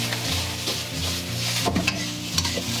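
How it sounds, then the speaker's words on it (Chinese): Marinated shrimp stir-fried in a wok with edamame and vegetables: a close, continuous sizzle broken by irregular scraping and clacking spatula strokes against the pan, with no talking. "接着我们再加入腌制好的虾仁，给它炒至变色哈就可以了"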